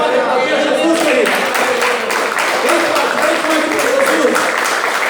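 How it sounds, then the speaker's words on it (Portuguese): Congregation applauding during a church sermon, sustained loud clapping from many people for about five seconds with distinct hand claps, while voices carry on over the applause. "Você pode aplaudir Jesus, querido."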